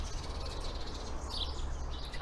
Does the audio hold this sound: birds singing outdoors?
yes